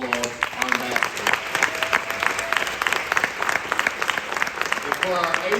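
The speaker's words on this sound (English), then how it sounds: "parents, I think we ought to all applaud our ambassadors" Parents at a school ambassador pinning ceremony break into sustained applause, a dense steady patter of many hands clapping close by that fills the room for several seconds.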